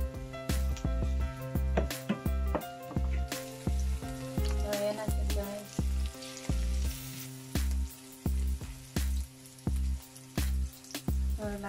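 Onion and garlic fry in a pan with a crackling sizzle and sharp spattering pops, and a steady low hum runs underneath in rhythmic pulses, close and without speech.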